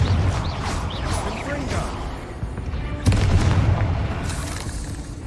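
A Confringo fire spell explodes in the Hogwarts Legacy video game, a loud boom with a sharp burst near the middle over steady ambient game noise and a voice casting spells.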